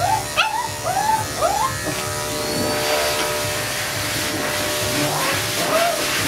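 A blow dryer runs steadily while drying a Yorkshire Terrier during grooming, a constant whirring hum, with the small dog whining and yelping in high cries at the start and again near the end.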